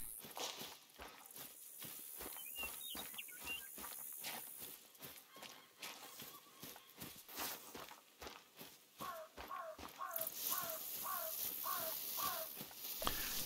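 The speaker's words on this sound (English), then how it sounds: "Crows." Crows caw in the hunting game Call of the Wild, a rapid run of harsh calls in the second half, over steady rhythmic footsteps on the ground and faint ambient background.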